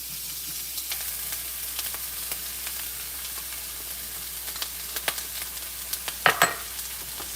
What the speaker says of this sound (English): now we're gonna go ahead and cook the shallots and the jalapenos